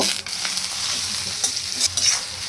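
Cinnamon, cardamom and dry red chillies frying in mustard oil, a crisp, crackling sizzle punctuated by several sharp scraping stirs of a spoon against the pan, close and loud, with no speech.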